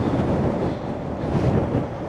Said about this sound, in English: It's so windy now, it's actually blowing the fountain.